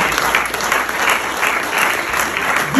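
Church congregation applauding steadily at a Swiss gathering led by a bishop, a dense, sustained clapping that fills the room without pause, with faint crowd murmur underneath.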